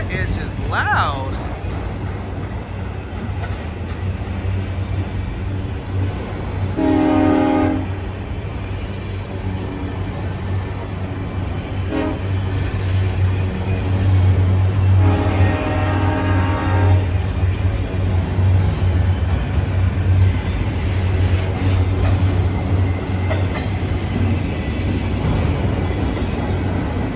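Union Pacific auto rack freight train rolling past Oakland's Jack London Square station, a steady loud low rumble of wheels and engine throughout, with a couple of brief horn-like tonal bursts rising over the roar.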